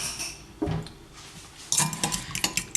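Five eggs are beaten with a fork in a bowl, the tines clinking against the dish in short uneven bursts, sparse at first and then quicker and louder toward the end.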